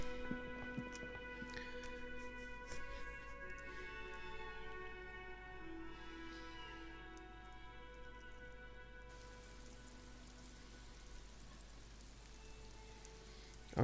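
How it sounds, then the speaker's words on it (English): Soft, steady rainfall in the video game Disco Elysium, faint and mixed with quiet tonal game music. "Oh no, it's raining."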